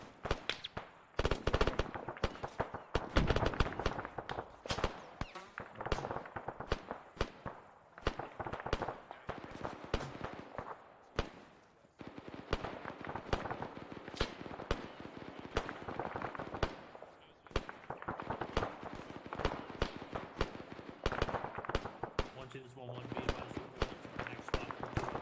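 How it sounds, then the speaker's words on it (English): Sporadic gunfire in the ARMA 3 military video game, irregular sharp shots and short bursts crackling throughout at mixed distances, with voices talking over the action. "We've got some sporadic fire as well, get eyes out."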